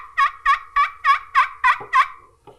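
A friction turkey call is worked to sound a run of seven evenly spaced, clear yelps at close range, ending with a couple of softer, scratchy notes, and no talking over it.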